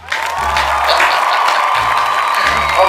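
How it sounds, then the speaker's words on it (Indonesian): An audience claps and cheers for a few seconds, a steady, full burst of applause that fills the space evenly without a break. "Tepuk tangan dong."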